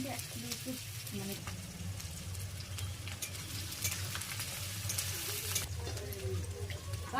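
Goat meat sizzles and bubbles steadily in a pot over a village clay stove, a constant frying hiss with occasional stirring scrapes while people talk nearby.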